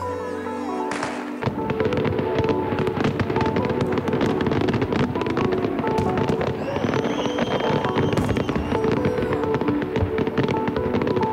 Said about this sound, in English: the famous fireworks display in Hobart to celebrate the arrival of a new year